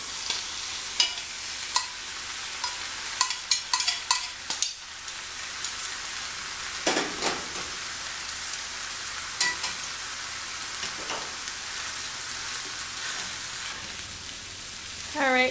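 Beef strips hitting a hot pan and sizzling, a steady bright hiss of frying with scattered clinks and scrapes of stirring early on, close and continuous.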